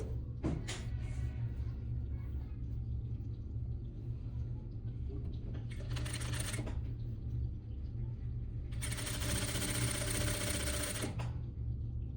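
A sewing machine stitches a costume, with short bursts of whirring over a steady low hum, the last burst longer, all fairly quiet.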